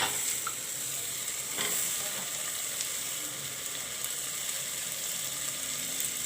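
Potatoes added to browned masala frying in a pan for a soybean, chana dal and potato curry, giving a steady, moderate sizzle with scraping stir strokes and occasional clinks, close and without talk.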